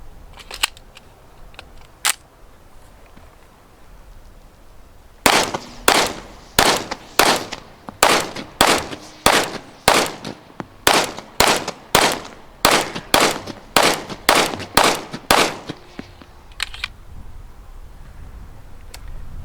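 Shots from a Springfield Prodigy pistol ring out in a steady string of roughly twenty sharp, loud cracks at an even pace, following a few isolated earlier pops, with quiet pauses in between and no talking.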